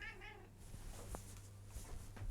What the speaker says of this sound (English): That's a cat right there.